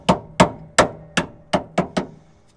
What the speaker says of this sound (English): Copper hammer.